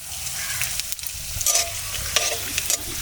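Whole spices frying in oil: cumin seeds, cardamom, cloves, peppercorns and cinnamon sizzling steadily with a few scraping stirs and spoon taps, close and fairly loud, no talking.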